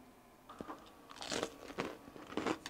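Someone bites into crispy fried chicken, giving several close, crackling crunches spread over a few seconds in a quiet room, with no speech.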